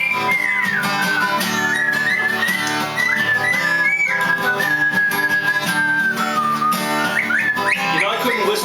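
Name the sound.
caique parrots whistling a song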